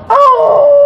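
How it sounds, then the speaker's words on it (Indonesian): A dog howls during the Islamic call to prayer, one loud, close, drawn-out wavering howl that starts abruptly and holds steady. "Anjing menggonggong melonglong."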